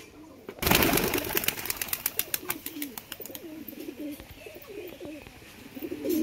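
Several pigeons, including Royal Teddy birds, coo in repeated soft, throaty phrases close by, and a burst of wing flaps and fluttering opens the sequence.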